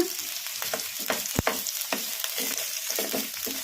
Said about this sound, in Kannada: ಉಳ್ಳಾಗಡ್ಡಿ ಗೋಲ್ಡನ್ ಬ್ರೌನ್ ಕಲರ್ ಬರೋವರೆಗೂ ಫ್ರೈ ಮಾಡ್ಕೊಂಬಿಡೋಣ ಮೀಡಿಯಂ ಫ್ಲೇಮಲ್ಲಿ